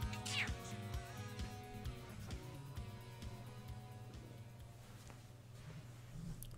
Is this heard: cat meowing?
yes